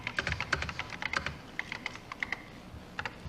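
Rapid keystrokes on an Apple Macintosh keyboard at a 1984 demonstration, a close, uneven run of sharp clicks with short pauses between bursts and no talking.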